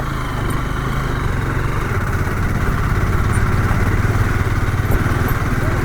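A Yamaha R15 motorcycle engine runs steadily and fairly loud while the bike is ridden up onto a vehicle on an old road, its low rumble constant throughout with no speech over it.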